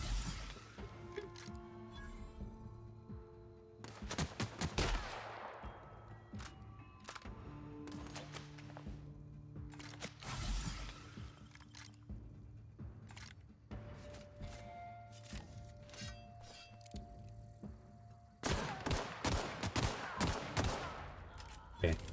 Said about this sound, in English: Okay, so the shotgun is solid.